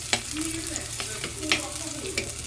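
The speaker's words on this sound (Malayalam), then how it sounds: "കുറച്ച് സവാള വഴറ്റിയെടുക്കാം" Onions sautéing in a pan with a steady sizzle, broken by a few short scraping stirs of a spoon, close and moderately quiet, with no talking.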